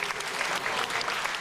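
Studio audience applauding on a televised dance competition, dense steady clapping from a crowd filling the room throughout.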